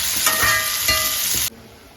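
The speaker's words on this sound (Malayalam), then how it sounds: "സവാള വറക്കണം ബിരിയാണിക്ക്." Onions frying in hot oil for biryani, a loud steady sizzle with faint stirring scrapes, cutting off abruptly near the end to a quieter hiss.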